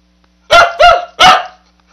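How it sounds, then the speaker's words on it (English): Three loud dog barks close by, the first two in quick succession and the third after a short pause. "Why are you barking?"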